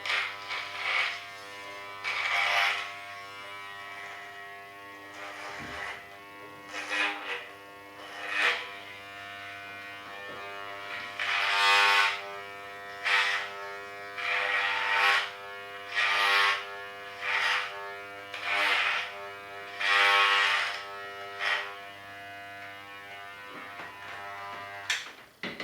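Electric hair clippers buzz in repeated bursts as someone cuts their own hair, with a steady motor hum underneath and louder surges each time the blades pass through the hair. No voices.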